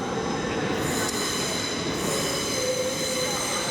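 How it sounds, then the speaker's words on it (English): A Transpennine passenger train to Manchester Victoria rolls in with a steady heavy rumble and high metallic wheel squeal, loud and near, with no talking. "Here comes our train to Manchester Victoria"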